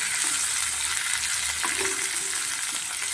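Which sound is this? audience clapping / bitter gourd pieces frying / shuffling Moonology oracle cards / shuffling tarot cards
bitter gourd pieces frying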